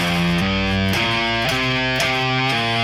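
Distorted electric guitar plays a short stoner rock riff phrase built on the pentatonic scale, with sustained chugging notes changing roughly every half second, loud and close with no talking.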